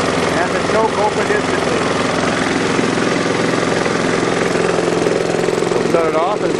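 A Briggs and Stratton small engine with a repaired automatic choke carburetor runs steadily at close range, a loud even putter with rapid firing pulses, while someone talks over it.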